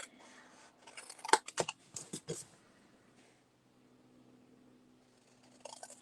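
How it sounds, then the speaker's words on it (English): Scissors snip a square out of card in a quick cluster of crisp cuts close to the listener, followed by a near-silent pause and one last faint snip at the end. "So we're cutting a square out basically."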